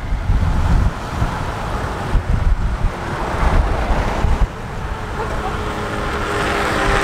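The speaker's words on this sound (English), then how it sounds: "It's so windy today." Strong wind blowing through a town at Lake Baikal, a loud rumbling roar of gusts hitting the microphone, surging and easing throughout, with no voices.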